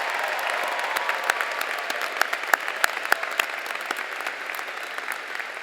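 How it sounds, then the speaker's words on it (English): A crowd at a 2015 high school graduation ceremony applauds its valedictorians and salutatorians, with steady dense clapping from a large audience and sharper individual claps standing out across the whole stretch. "can we have a nice round of applause for our valedictorians and salutatorians?"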